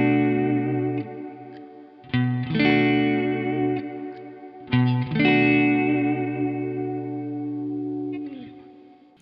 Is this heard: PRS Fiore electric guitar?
yes